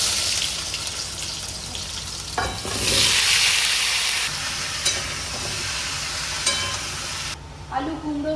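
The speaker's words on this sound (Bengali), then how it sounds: "আলু, কুমড়ো, সয়াবিন ভালো করে ভাজা ভাজা হয়ে গেছে" Potato, pumpkin and soybean frying in a pan, a steady close sizzle with stirring scrapes and a louder hiss surge partway through, running alone without talk.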